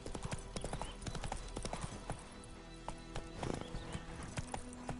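Roach, the horse in The Witcher 3, clip-clops along in a game, with quick rhythmic hoofbeats close by. A whinny sounds partway through and faint game voices sit underneath.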